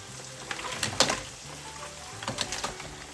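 Lobsters drop into well-fried masala in a pan for a Bengali curry, setting off a steady close sizzle and crackle with a few sharper spatters, no talking.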